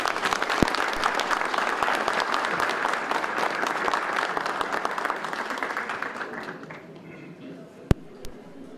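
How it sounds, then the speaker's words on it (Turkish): Audience applause welcoming a speaker at the general assembly of a Circassian associations federation congress, a steady dense clapping from a large crowd that fades out over the last couple of seconds, with a couple of sharp isolated knocks near the end. "Gelecek Partisi Genel Başkanı Sayın Ahmet Davutoğlu Beyefendi'ye alkışlarımızla davet ediyoruz."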